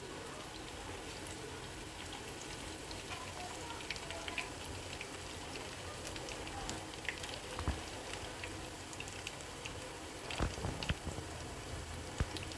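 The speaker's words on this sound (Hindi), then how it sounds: "ये 2 से 3 मिनट एक साइड से फ्राई करेंगे, 2 से 3 मिनट की दूसरी साइड से" Stuffed green chillies sizzle steadily in a frying pan, a constant crackling hiss broken by occasional louder pops, with no talk.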